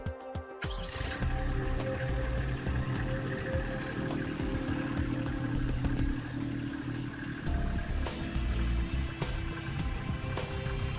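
Kubota B2650 compact tractor engine cranks over and catches, then settles into a steady, fairly loud diesel idle that runs throughout with no talking.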